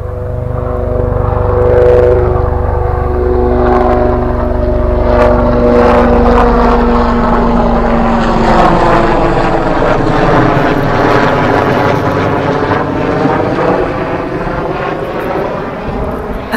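An Apache military helicopter passes overhead, a loud, throbbing rotor and engine roar that fills the whole stretch, with a pitch that sweeps downward as it goes by and then fades slightly.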